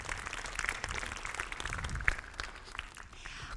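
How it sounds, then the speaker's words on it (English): Conference audience at a machine-learning testing talk giving modest applause, scattered claps over a soft crowd murmur, with one sharp nearby clap standing out. "bravo, applause"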